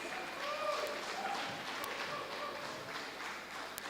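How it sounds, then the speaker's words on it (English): Audience clapping at an official evaluation meeting in Nigeria, a light, steady round of applause in a room, moderately distant, with speech mixed in. "There's a special clapping going on a particular table."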